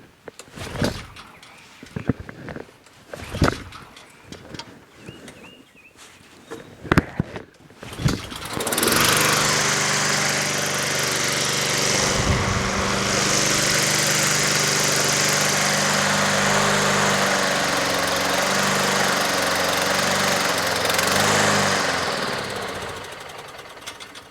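A Honda HRT216 Harmony II Quadra Cut push lawn mower engine, after a few sharp pull-start bursts, catches and runs loud and steady at close range for about fifteen seconds, then begins to falter.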